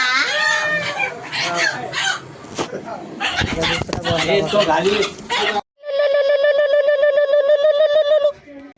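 People talk loudly at first, then a rooster lets out a long, harsh, sustained squawking call close by.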